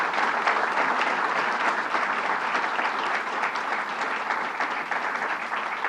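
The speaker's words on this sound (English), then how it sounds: "Let's just give a round of applause to the people who do the actual research" Sustained applause from a crowd at a groundbreaking ceremony, a dense even clapping that stays loud for several seconds with no voices over it.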